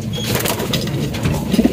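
Homing pigeons, including a blue bar bird, coo with a few soft low throaty calls near the end over a steady murmur of loft noise and faint rustling.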